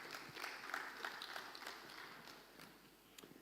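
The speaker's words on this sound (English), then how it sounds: "Please, a round of applause for her." A conference audience applauds after a speaker is invited up, a faint, distant patter of clapping hands that rises slightly, holds steady and then thins out over a few seconds.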